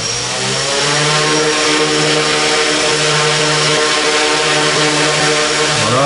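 Propellers of an Arduino-controlled bicopter drone spinning up, a loud continuous buzzing whine with pitch steps and shifts as motor speed changes, heard alone.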